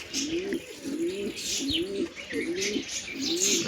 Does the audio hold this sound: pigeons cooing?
yes